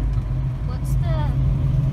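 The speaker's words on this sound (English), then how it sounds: "Although this car's so loud sometimes you can't talk in it anyway." A 1970 Mustang Fastback with a 351 Cleveland V8 driving, a loud steady low engine rumble filling the cabin, with people talking over it.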